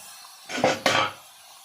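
A utensil scraping and knocking against a pan while duck meat is stirred for duck fry, two short close clattering strokes in an otherwise quiet kitchen.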